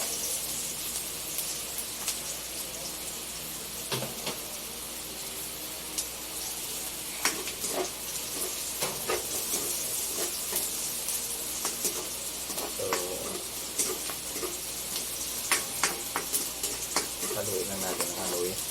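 Garlic frying in a pan as a clam dish with mushroom and malunggay gets started: a constant bright sizzle and crackle with scattered pops and clicks of stirring, while a voice speaks over it now and then.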